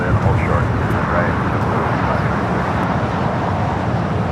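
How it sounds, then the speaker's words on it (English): A 22-year-old 757-300 jet taxiing at LAX airport, a steady, loud engine roar with broadband rumble that holds constant throughout, no voices in the clip. "This aircraft, 22 years old, delivered in October of 2003."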